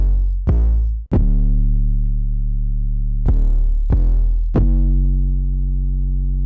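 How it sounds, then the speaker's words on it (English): Deep 808 bass notes from an FL Studio beat, loud and sustained, each struck with a sharp attack and left ringing, coming in a sparse pattern of repeated hits with gaps between them. "we have the 808 pattern, which is going to sound like this"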